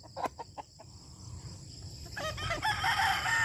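Gamefowl rooster crowing on a farm, preceded by a few short clucks, then a loud drawn-out crow nearby with faint chirping insects in the background.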